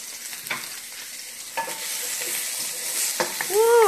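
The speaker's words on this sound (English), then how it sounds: "And now I'm gonna cook our green onions and our garlic and ginger." Green onions, garlic and ginger fry in oil for beef fried rice, a steady bright sizzle with occasional stirring scrapes and a brief voice at the very end.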